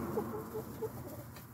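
Chickens on a cold day, roosters and a silkie hen, cluck softly in short, low bursts, with several brief calls close together near the start and scattered clucks after, faint against a quiet background.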